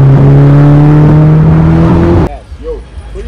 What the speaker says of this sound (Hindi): गाड़ी में हमारे एग्जॉस्ट की आवाज सुनो थोड़ी